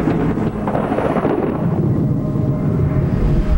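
A deep, continuous rumble of thunder from lightning rolls steadily, loud and low, with no distinct crack.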